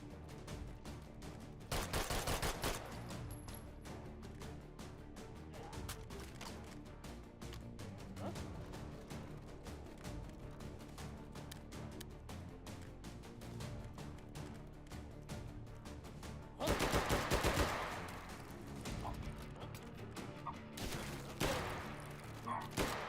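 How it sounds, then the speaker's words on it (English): Bursts of G11 rifle fire in a video game ring out loudly over a steady backdrop of game music and effects, with dense volleys around the middle and a second cluster of shots near the end. "This gun's surprisingly powerful. I thought the G11 used just like"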